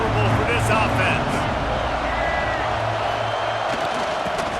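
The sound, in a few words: football stadium crowd noise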